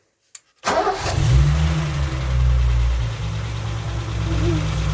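A BMW E30 325i engine cranks and catches after a brief silence, then settles into a loud, steady low rumble close by, with slight revving swells throughout.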